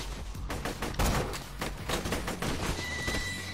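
Sniper rifle shots ring out at giant flying bats in Borderlands 2, a run of sharp, punchy cracks amid busy combat noise and screeching creatures.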